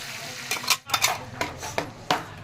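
Spice paste going into leftover prawn-frying oil in a pan, heard as a series of sharp clinks and scrapes of a utensil against the pan, several distinct knocks spaced irregularly across a couple of seconds.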